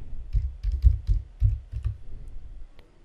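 Keystrokes on a computer keyboard as a command is typed into a Windows command prompt while preparing a bootable USB pendrive: a close, irregular run of about a dozen crisp clicks, ending with a single tap.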